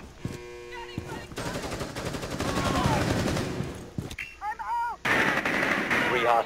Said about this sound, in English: the AK on Fuse is like freaking overpowered